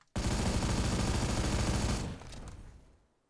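An automatic gun in a video game fires a long, rapid unbroken burst for about two seconds, loud and close, then cuts off and leaves a fading tail of echo and trailing shots.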